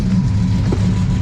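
A Chevy 383 crate engine in an Olds 442 rumbles steadily and loud and close, a continuous low engine drone with a brief rise partway through, and no talk over it.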